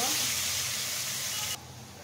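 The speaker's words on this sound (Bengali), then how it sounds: "এখন আমি আলুটা খুব সুন্দর করে ফ্রাই করে নেব।" Potatoes frying in a pan, a steady close sizzling hiss that cuts off abruptly partway through.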